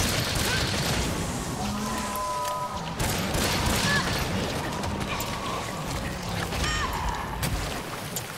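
Pierce ammo from a bowgun fires like rockets in the Monster Hunter Rise video game, a dense, continuous barrage of whooshing blasts and mechanical clatter layered with game effects, loud and steady, with voices talking over it.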